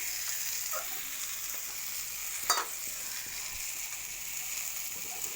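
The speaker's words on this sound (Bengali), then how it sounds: "তো একটু মিট মশলা দিয়েছিলাম, দিয়ে এটাকে ভালো করে কষিয়ে নিচ্ছি।" Meat masala and tomato sauce being sautéed in a pan, a steady close sizzle with a single sharper clatter of a spoon midway, no talking.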